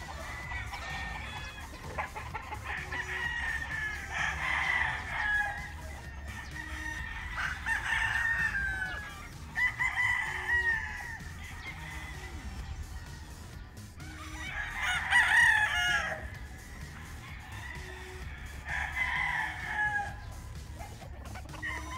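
WPC local gamefowl roosters crow repeatedly in long drawn calls, spaced a few seconds apart, with softer clucking between, fairly near and clear on a farm.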